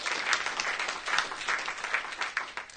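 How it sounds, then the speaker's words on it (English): Audience applause at a DrupalCon Los Angeles 2015 conference session, a steady even patter of many hands clapping for almost three seconds. "So I'd please give a round of applause to Andre"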